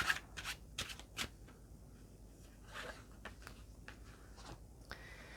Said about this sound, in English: let's just give this deck a shuffle